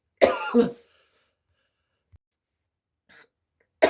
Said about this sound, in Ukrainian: Як цей кашель задовбав?